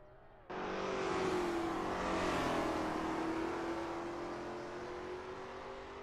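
A Lola T70 MkII Spyder race car in a video game at Bathurst roars in suddenly and sustains a loud, steady engine howl, its pitch sagging slightly and then holding as it drives on, with no talk.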